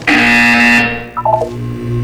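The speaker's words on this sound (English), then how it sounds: "You will hear a buzzer. When you hear the buzzer, look down at the floor." A loud, harsh electronic buzzer sounds in the video game Portal 2, holding steady before cutting off. It is followed by a brief run of short descending tones over a low hum.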